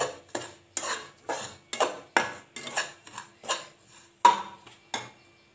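A spoon scrapes and knocks rhythmically against a pan as semolina and almonds roast for sheera, about a dozen close, sharp strokes at a steady pace with quiet gaps between.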